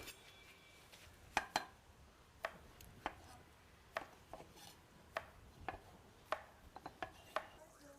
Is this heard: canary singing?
no